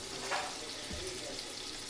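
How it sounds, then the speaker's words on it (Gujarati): Soft, steady sizzling of food frying in a pan, with a light stir or scrape partway through. "ચાલો હવે એને થોડી વાર સાંતળવા દઈએ"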